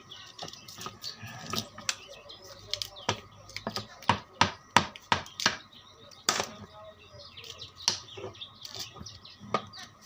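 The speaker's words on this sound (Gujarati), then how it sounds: "આપણે ડુંગળીનું કટિંગ કરી નાખીએ" Knife chopping onion on a board in a home kitchen, a series of sharp irregular taps clustering into quick bursts, close and fairly loud over faint background chirping.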